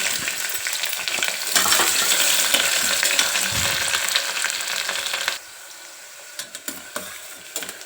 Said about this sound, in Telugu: ఉల్లిపాయ వేగింది కదా